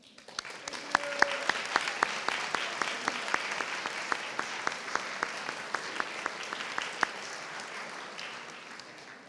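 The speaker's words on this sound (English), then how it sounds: "Turn around, face your parents, say thank you, and give them a round of applause." A round of applause from seniors and families at a high school honors night, rising quickly into steady many-handed clapping with distinct individual claps, then fading gently toward the end.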